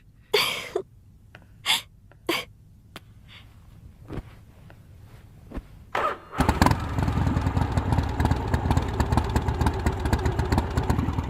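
A few short breathy gasps and sneeze-like bursts come first, then a motor scooter engine starts up and runs with a loud, steady, rough drone through the rest.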